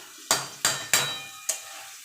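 Banana flower dropped into a pan of fried spices with shrimp, fish and potato, then stirred: four sharp scraping, sizzling bursts of spatula against pan, close and alone with no talk.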